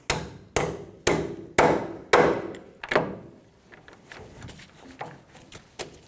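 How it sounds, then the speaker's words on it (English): A 24mm socket being hammered onto a ball joint castle nut on a 2005-2015 Toyota Tacoma: five loud, evenly spaced metallic blows up close, followed by several lighter, more scattered taps, with no talking. "We're going to smash a 24mm socket over the ball joint castle nut."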